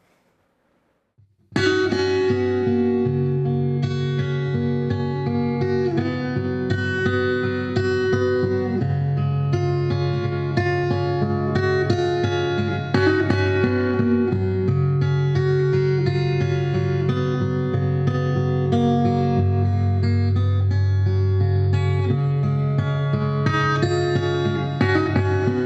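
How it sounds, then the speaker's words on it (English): Acoustic guitar played through a Hartke AC150 amp with a spring reverb preset, steady picked chords and notes ringing with a splashy, lingering tail, no talking. "another preset using a spring reverb."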